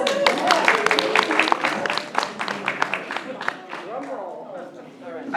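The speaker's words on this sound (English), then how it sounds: "Round of applause!" A crowd at an election-day results gathering breaks into a loud round of applause, dense clapping tapering into scattered claps, with voices cheering and calling underneath.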